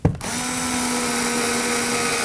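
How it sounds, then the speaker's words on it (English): A power driver whirs steadily and close by while running a Phillips screw into a Kia Sorento side mirror, a short starting click giving way to a sustained, even motor drone. "Now we're gonna go ahead and install the Phillips screw that goes here."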